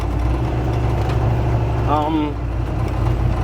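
A 40-year-old Jeep Honcho truck engine runs smoothly at a steady idle, a loud, even rumble close by throughout, with a short squeaky sound rising briefly over it midway.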